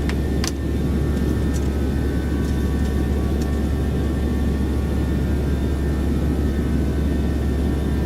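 A Boeing 737-600 climbing out on departure in a flight simulator game, its jet engines producing a steady, loud, continuous roar with a couple of faint clicks early on and no talk.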